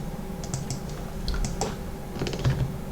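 Supplier details for Prestige Vehicles Limited are typed on a computer keyboard in accounting software, giving a quick, uneven run of close key clicks over a faint room hum.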